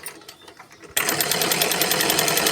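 A cleaned and oiled treadle sewing machine runs smoothly, starting quietly and then turning into a steady, even mechanical whir close by that continues without pause.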